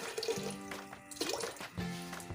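Water pouring in short bursts into a pressure cooker holding whole masoor lentils, a quiet splashing and trickling fill repeated about three times, close by with no talk.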